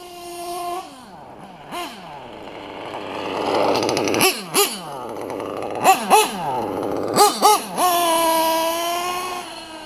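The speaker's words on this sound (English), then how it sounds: "I'm going to try and get all my Nitro engines properly tuned." A modified Picco Boost .28 nitro engine on an RC race buggy idles and is blipped several times, its steady buzzing hum rising into sharp whining revs and falling back, loud and close.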